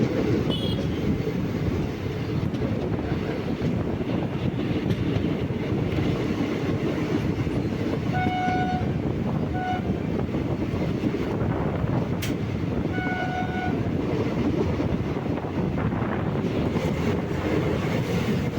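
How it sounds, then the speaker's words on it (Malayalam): A train pulls into Tirunelveli Town station on the Sengottai–Tirunelveli line through the Western Ghats, with steady rolling rumble and wind noise throughout, plus a few short horn-like tones partway through, no talking. "തിരുനെൽവേലി ടൗണിലേക്ക് നമ്മുടെ ട്രെയിൻ എത്തിയിരിക്കുകയാണ്"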